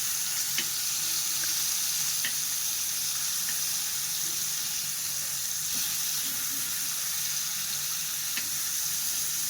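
Kebabs fry on a tawa over a very low flame, giving a steady, even sizzle that holds throughout with only faint occasional clicks, close and without voices.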